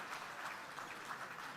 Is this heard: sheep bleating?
no